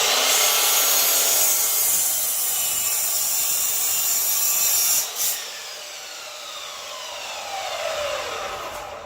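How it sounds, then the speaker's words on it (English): A miter saw slices through a wooden board with a bright, loud whining cut that fades as the blade spins down after the chop. "With a miter saw like this, you want the board back against the rails."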